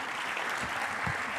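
Steady, dense applause from an audience at a Thursday youth sabha, loud and continuous throughout a short burst with no voices over it.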